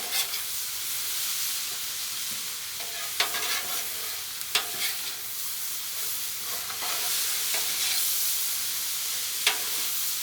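Pineapple fried rice with teriyaki sauce is stirred on a Blackstone griddle, giving a steady, close sizzle with scraping and clacking spatula strokes throughout.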